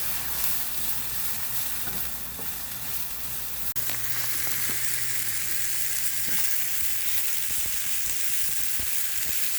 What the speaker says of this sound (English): we're going to saute these for several minutes because, again, I want to thoroughly cook those wild mushrooms